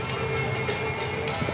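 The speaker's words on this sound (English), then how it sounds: "Let's continue as the train goes by." A train rolls past at Gatorland, a steady broadband rumble with faint rail clatter running continuously at close range, with no talk over it.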